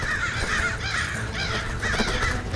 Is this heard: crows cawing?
yes